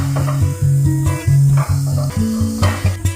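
Grated coconut and jaggery cooking together in a pan, giving a steady sizzle with repeated scraping and stirring strokes close by, with no talking.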